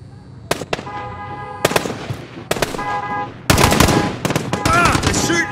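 Gunfire in Call of Duty Modern Warfare Spec Ops: repeated bursts of automatic shooting, some sharp and close, others further off. Heavier continuous fire breaks out toward the end.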